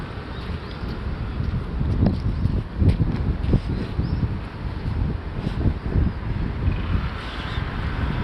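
Steady wind gusts buffet the microphone, a constant low rumble with stronger thumps throughout, no voices.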